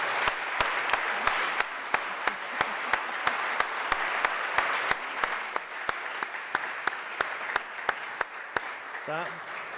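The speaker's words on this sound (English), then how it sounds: "a big round of applause." Audience applause for a panel at a plenary conference session, a steady wash of many hands clapping with sharper individual claps standing out, continuing for the whole stretch before a voice starts speaking at the very end.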